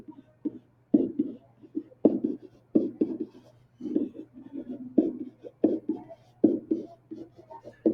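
A marker scratches across a classroom board in short, irregular strokes, each a quick burst of squeaky scraping with brief pauses between, close and fairly quiet against a faint steady hum.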